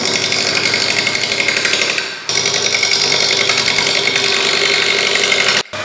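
A wood lathe spins a bowl blank, giving a loud steady whirring drone with a rapid chattering rhythm that holds almost throughout, with one brief dip partway.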